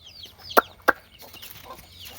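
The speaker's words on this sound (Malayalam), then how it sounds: "ഇത് നമ്മളെ കോഴിക്കളാണ്" A few household chickens cluck: two short, sharp clucks close together early on, then softer rustling and faint bird sounds outdoors.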